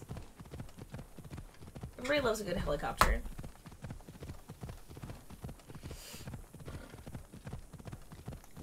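Rhythmic horse hooves clip-clop steadily in Assassin's Creed Odyssey, with a louder burst of game sound midway and a voice talking over much of it.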